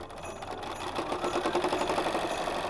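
A sewing machine stitching back and forth along the edge of fabric for a mini quilted holiday piece, with a steady rapid mechanical whir and needle chatter running continuously up close, no talking.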